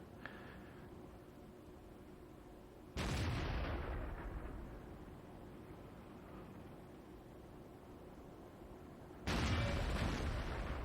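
Two heavy tank cannon shots in World of Tanks, a KV-13 battle, boom out several seconds apart. Each sudden loud blast trails into a long rumbling decay over steady background noise.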